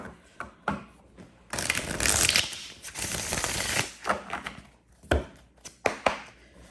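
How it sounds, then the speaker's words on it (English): A deck of playing cards is shuffled: scattered dry clicks, then a sustained riffling burst of a couple of seconds, followed by more sharp taps and snaps as the cards are squared up. "Did I shuffle them already? I'll shuffle them again."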